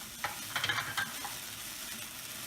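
A flambéed pan sauce sizzles quietly on a stovetop, with a few soft clinks and stirring sounds near the start over a faint, steady frying hiss.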